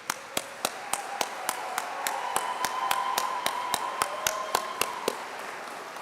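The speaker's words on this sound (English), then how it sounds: "Let's give these guys a big round of applause." Evenly spaced sharp claps ring out at a steady beat for police cadets at a police service cadet graduation ceremony, with a faint tonal hum sustained underneath.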